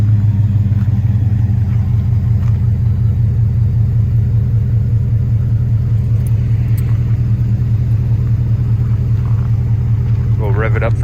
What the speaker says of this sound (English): We'll rev it up from the inside.